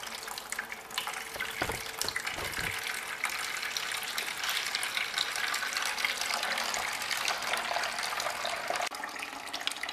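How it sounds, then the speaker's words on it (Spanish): Water gushes steadily through a hose while flushing a car heater core in reverse to clear out dirt, a continuous loud rushing flow with brief knocks near the start. "lo que vamos a hacer es abrir la llave y ver ahora cómo sale el agua dándole al revés"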